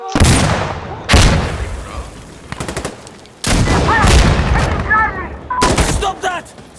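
Gunfire from the video game Insurgency Sandstorm comes as loud, close bursts of rapid shots and single cracks separated by brief pauses, with trailing echoes and shouted voices in between.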